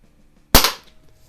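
A single shot from a Gamo AF-10 .177 single-stroke pneumatic pellet pistol, one sharp loud crack close by with a brief fading tail, in an otherwise quiet setting.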